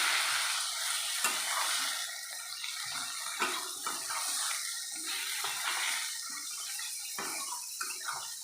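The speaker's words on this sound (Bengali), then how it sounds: "এইবারে মশলাটাকে ভালো করে কষাবো আঁচটা কমিয়ে দিয়ে।" Masala with chopped tomato, salt and a splash of water is stirred and fried over lowered heat, giving a close, wet bubbling sizzle broken by irregular scraping stirs throughout.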